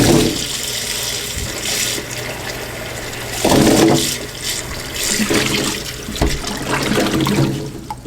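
A tap runs over crab apples as they are washed, giving a steady splashing hiss that swells and dips in loudness as the fruit is moved under the stream, close by and without speech.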